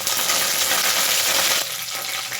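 Curry leaves dropped into hot oil for puliyogare give a loud, steady sizzle and spatter that drops off sharply partway through, leaving a quieter crackle.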